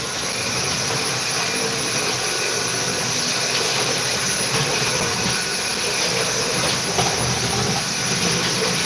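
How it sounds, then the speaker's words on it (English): A vacuum cleaner runs in a bedroom, giving a loud, steady whooshing roar with a thin high whine that holds constant throughout, no voices. "My wife's vacuuming our bedroom."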